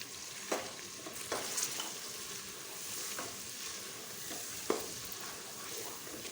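Mutton frying with turmeric, red chili flakes, coriander powder, salt and cumin, a steady low sizzle in the pan with occasional scrapes and knocks from stirring, fairly quiet and close.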